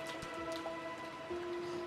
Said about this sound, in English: And it was raining this hard too.